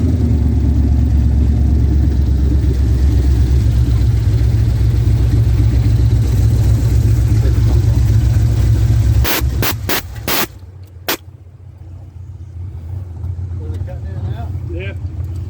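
1980 Trans Am with cam, intake and nitrous, its engine idling loud and close, then revved in a few sharp blips before settling to a lower rumble, with voices talking.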